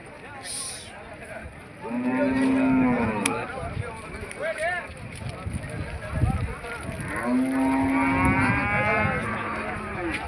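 Cattle moo at a busy weekly livestock market in Gadag, two long, loud, close moos several seconds apart over a constant bustle of crowd noise and distant voices.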